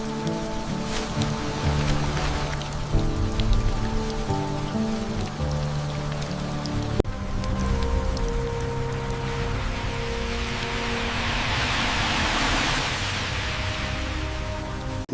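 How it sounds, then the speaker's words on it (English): Gentle rain falls steadily on a garden, a dense even patter with scattered drops, constant and close, with no voices. "The gentle rain nourishes the earth, bringing life and tranquility to the garden."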